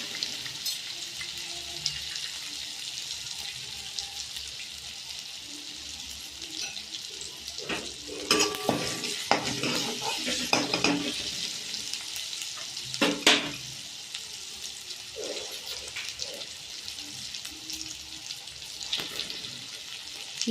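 Stuffed brinjals frying in a spiced oil tempering for masala brinjal, a steady close sizzle with louder bursts of crackle and stirring scrapes as the vegetables settle into the hot oil.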